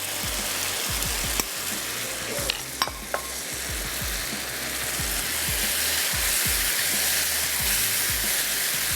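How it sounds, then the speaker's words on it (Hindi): Shrimp dropped into hot oil and fried over a high flame for biryani, giving a loud, steady sizzle with frequent stirring scrapes and a few sharp utensil clinks, close and without speech. "ऑयल ऊपर आ चुका है तो फिर अब इसमें हम ऐड कर देते हैं झींगे।"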